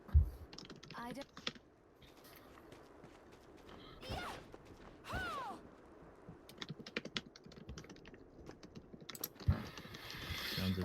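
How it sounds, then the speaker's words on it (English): Quick, vigorous typing on a computer keyboard during a gaming session, bursts of close key clatter scattered among quieter stretches and a few louder clicks and knocks, fairly faint overall. "Sounds of vigorous typing."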